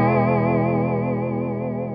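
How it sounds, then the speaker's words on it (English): Hardwire TR-7 tremolo/rotary pedal set to a dual voice vibrato, a sustained, wavering effected guitar tone ringing steadily and loudly for two seconds with gentle pitch wobble and no talk. "it's basically a dual voice vibrato effect"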